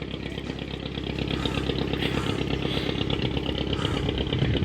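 A motorboat engine chugs steadily on a river near Kadamakkudi, passing close to a small boat with a loud, throbbing mid-pitched drone that grows slightly louder as it nears.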